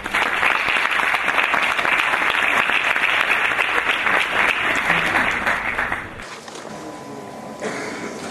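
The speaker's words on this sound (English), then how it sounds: "With a big round of applause, Mr. Tariq Al-Barwani" A presentation audience claps loudly and continuously for about six seconds, then the applause drops away to quieter room sound with a few scattered claps.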